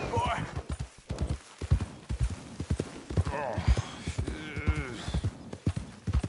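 Horse hooves clip-clop in an uneven rhythm close by, from a horse behaving drunkenly, with a voice talking over them and a brief whinny-like sound.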